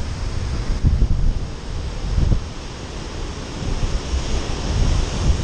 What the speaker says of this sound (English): Once more, sound of waves, of the power of the Atlantic Ocean is overwhelming